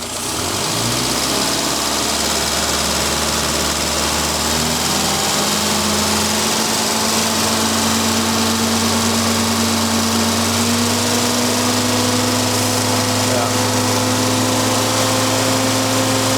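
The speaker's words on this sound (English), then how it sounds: "So we'll just go up through the rev range with this." A Morris Minor engine, hot and being tuned with an E3 carburettor needle and the damper still fitted, revs loudly and steadily. Its droning pitch climbs slowly as the throttle is eased up through the rev range, with no talking.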